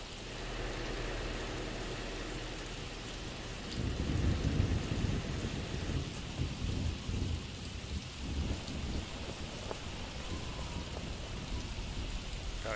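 Steady rain in an afternoon downpour along a road with slow-moving traffic, a dense continuous hiss that swells heavier partway through, with low rumbling underneath like distant thunder.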